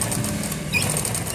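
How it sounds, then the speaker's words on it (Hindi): A sewing machine runs steadily while stitching a double seam on sleeve piping, a close, continuous mechanical whir with a rapid pulsing rhythm and no speech. "इस तरह से हम डबल सिलाई लगाएंगे"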